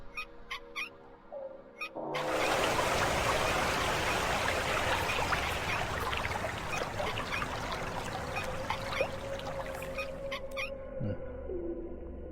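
Water pours in a steady, continuous stream in the video game Legacy of Kain: Blood Omen 2. It starts abruptly after a short quiet lead-in and runs loud, with a bright splashing hiss, for about ten seconds before cutting off.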